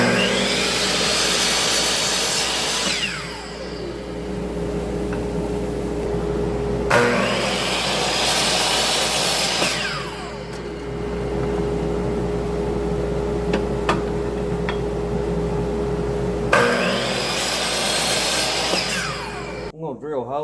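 A shop vacuum drones steadily while a saw cuts cedar wood, the loud whine surging in three long bursts over the continuous hum, cutting out abruptly at the end.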